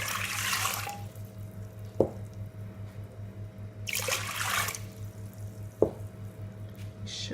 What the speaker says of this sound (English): This 3 cups of water